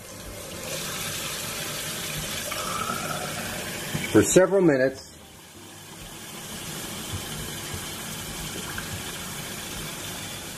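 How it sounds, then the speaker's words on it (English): Tap water runs steadily from a faucet to rinse freshly developed black-and-white film, a continuous near hiss of flowing water that swells briefly as someone speaks over it. "We're gonna do a simple tap water rinse here and wash."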